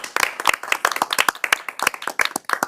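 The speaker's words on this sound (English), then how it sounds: "It's like the golf clap we did." A small group at a school board meeting gives a light golf clap. The soft, quick hand claps are loosely scattered and close, and they last only a few seconds.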